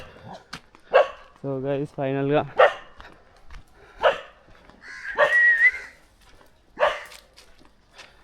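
Dogs bark on a beach in South Goa, a few sharp, close yelps and barks in short bursts mixed in among people talking.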